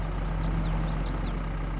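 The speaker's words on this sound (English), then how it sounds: "I do it with the Massey because that's my smallest tractor." The small Massey tractor from Farming Simulator 22 idles in a steady, low, continuous rumble, with faint chirping sounds scattered above it.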